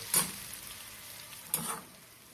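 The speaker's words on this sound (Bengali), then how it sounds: "আদা রসুনটা পেঁয়াজের সঙ্গে হালকা ভেজে" Ginger garlic paste frying with onion in a pan, two short bursts of sizzling about a second apart, each flaring loud and then settling into a quiet crackle, close by with no talk.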